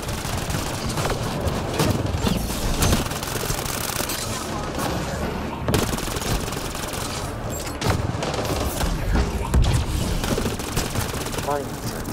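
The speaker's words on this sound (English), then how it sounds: "They're already shooting us." Rapid bursts of gunfire in the Mass Effect Andromeda video game, dense overlapping shots and automatic fire rattling steadily throughout a loud firefight, with scattered voices underneath.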